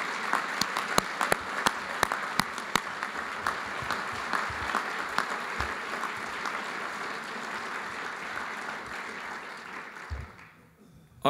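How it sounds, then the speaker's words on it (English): Audience applause at a church tribute service, steady dense clapping with a few sharp claps near the start, holding at an even level for about ten seconds before tapering off. "Let's give him our applause."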